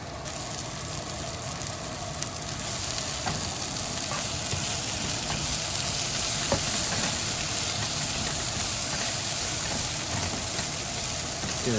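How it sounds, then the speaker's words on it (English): Onions sautéing in butter and steak grease give a steady close sizzle and crackle that holds for the whole stretch, with occasional faint stirring clicks and no talk. "Sauteing it in the butter and steak grease. Sweat it down a little bit"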